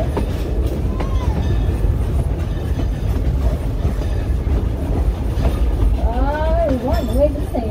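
Frisco steam train at Silver Dollar City rolling over the rails during a Christmas sing-along ride, a steady rumbling clatter throughout with passengers' voices and singing on top.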